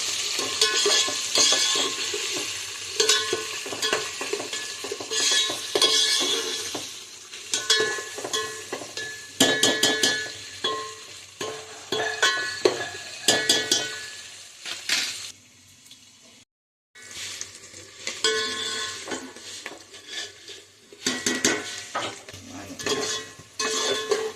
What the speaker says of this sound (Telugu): దోరగా వేగేదాకా కలిపెడుతూ ఉండాలి.